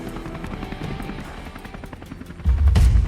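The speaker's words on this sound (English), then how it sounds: "The chopper's roar sent the boars into a panic, pure chaos unfolding below." Helicopter roaring overhead during a wild boar hunt, a steady rotor thrum that swells into a loud, close rumble near the end.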